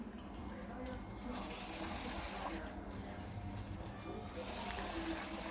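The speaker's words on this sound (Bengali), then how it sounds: "এই চালটা ধুয়ে নেবো এখন।" Rice is rinsed in water in a home kitchen, giving a continuous close swish and slosh of water with faint running-water noise throughout.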